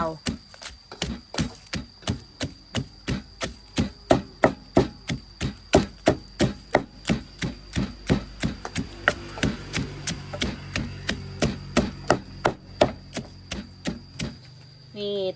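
Rhythmic pounding of ingredients in a mortar for a Thai dip, dozens of sharp evenly spaced thuds close up, repeating steadily with brief pauses, and faint talk beneath.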